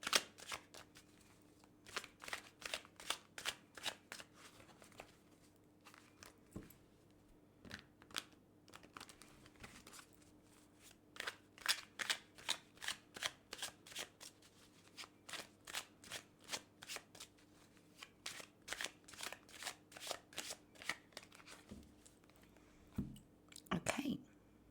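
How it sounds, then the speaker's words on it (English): Cards are riffled and shuffled repeatedly up close, bursts of quick flapping clicks in a steady rhythm with short pauses between. "let's go ahead and first of all shuffle this deck several times"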